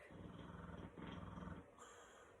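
A dog growls low and rumbling in two sustained bursts with a short gap between them, fairly quiet and close, fading out toward the end.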